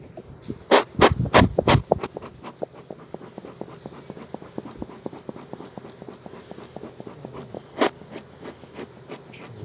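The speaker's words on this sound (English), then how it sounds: "Get all these bees off the queen excluder." Honeybees buzz around an open hive during an inspection, a faint steady hum beneath a run of sharp taps and clicks, with a few louder knocks near the start.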